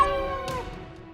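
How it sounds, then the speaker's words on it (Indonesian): A cat meows once, a short, faint cry set against a busy comedic stage scene, with a low background murmur and no clear talk over it. "Aduh, ada kucing lagi."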